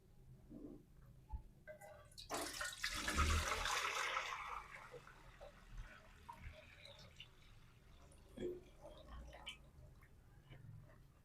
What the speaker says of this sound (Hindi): तो अभी हमें ये सारा पानी जो है ये देचके में डालते हैं।